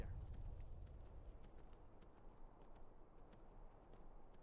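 Horse hooves clip-clopping steadily as the rider's mount moves along in Skyrim, a soft continuous patter of footfalls over low rumbling ambience, no talk.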